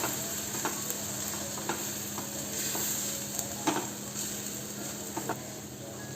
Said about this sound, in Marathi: आणि ते मीडियम गॅस फ्लेमवर आपल्याला हे छान परतून घ्यायचं आहे.